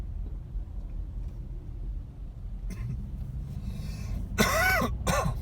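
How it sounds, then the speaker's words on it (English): Coughing and throat clearing from a driver in a car on a snowy road in Big Bear, two harsh bursts near the end over a steady low engine and road rumble. "Forgive the coughs, you guys."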